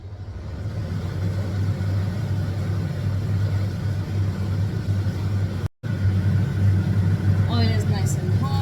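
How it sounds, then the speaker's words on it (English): A kitchen exhaust fan runs steadily as a loud, constant low hum through a home cooking session, with hot oil nearby; a brief cutout interrupts it and faint sizzling appears near the end. "I will start the exhaust."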